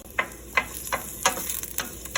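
Onions dropping into about two tablespoons of hot oil in a pan for a Ghanaian red-red bean stew, giving a steady quiet sizzle with several soft crackling bursts, close and alone.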